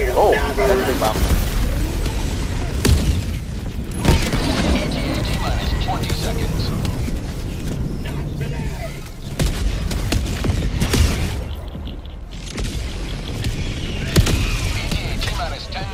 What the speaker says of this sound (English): Oh, that's a big bomb.